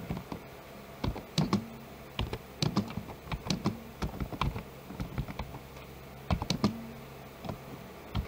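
Fingers typing text on a computer keyboard while formatting a word-processor document, a quick irregular run of close, crisp key clicks with short pauses between bursts.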